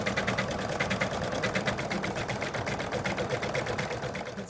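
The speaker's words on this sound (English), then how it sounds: "now it's going to stitch the outline again." An embroidery machine stitches an outline on a Monty the Monkey design, a close, rapid and steady mechanical clatter of needle strokes in an even rhythm, running alone without talk.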